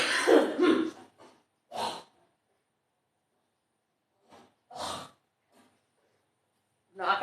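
Three separate harsh coughs, close and moderately loud, spaced out with silence between them, after a brief stretch of talk.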